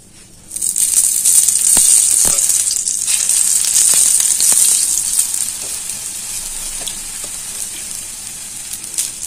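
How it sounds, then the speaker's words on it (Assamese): A cauliflower paratha hits a hot tawa and sizzles loudly and steadily, a bright hissing fry that rises suddenly after a quiet start and then slowly eases off, with no talking. "তাৱা এখন গৰম হ'ব দিছিলোঁ তাতে মই দি দিছোঁ"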